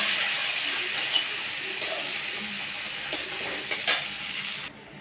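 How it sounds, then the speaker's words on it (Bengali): Chopped onions sizzling in hot oil left from frying katla fish, a soft steady hiss close by with occasional light clinks of a utensil stirring the pan. "এবার আমি ওই তেলের মধ্যেই কুচনো পেঁয়াজগুলো দিয়ে দেব।"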